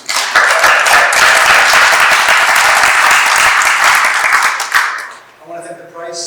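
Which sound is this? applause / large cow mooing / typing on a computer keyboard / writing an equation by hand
applause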